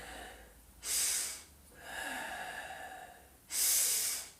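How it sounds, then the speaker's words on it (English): Deep nasal breathing during a breathing exercise, with two strong rushing inhales through the nose separated by a longer, softer exhale, close and quiet. "Breathing through the nose. Nasal breathing."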